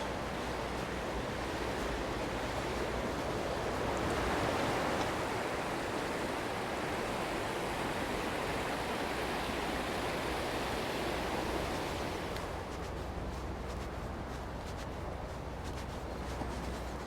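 The Neath River rushes below a road bridge, a steady broadband roar of flowing water heard continuously from nearby, with no talking over it.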